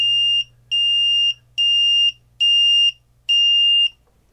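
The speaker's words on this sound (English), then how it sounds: "see, we have a beep." Electronic beeper on a Commodore 1581 disk drive under repair sounds five loud, clean, high-pitched beeps of about half a second each, evenly spaced over a low background hum.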